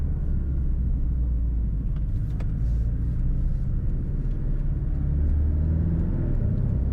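A Porsche 718 Cayman flat-four engine revs and drones steadily with a low, rumbling growl, loud and close, with no voices.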